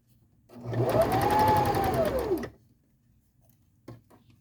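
Sewing machine stitching knit fabric around circular pieces: one fast, whirring run of about two seconds close by, stopping abruptly, followed by a faint knock, with no talk.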